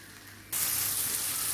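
Carrots, onion and garlic hit a hot pan and break into a loud, steady sizzle of frying that starts abruptly and continues without talk.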